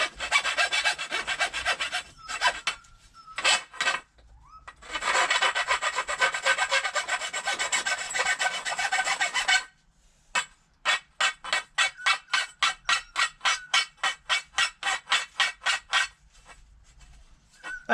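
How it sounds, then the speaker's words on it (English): Sandpaper rubs over a cut pole to smooth away burrs, first in long continuous scraping passes, then in a quick, regular back-and-forth rhythm of short strokes, close and fairly loud. "I'll get some sandpaper just to really smooth it over"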